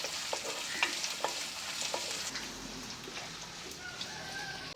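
Onions sautéing with green chilli, garlic and ginger in a pan, a soft, even sizzle with occasional light stirring taps, while a rooster crows faintly in the background.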